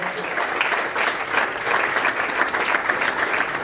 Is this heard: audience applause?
yes